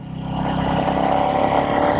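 Royal Enfield Meteor 350 motorcycle with a 349cc engine and a cat-delete exhaust, riding along a street with a steady, fairly loud engine note that rises slightly, heard on its own.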